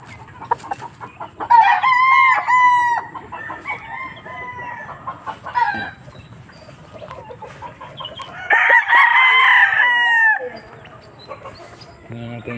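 Chickens cluck and crow close by; a couple of loud rooster crows ring out among ongoing clucking and muttering hen sounds, with quieter gaps between. The birds are farm fowl being treated for a skin ailment.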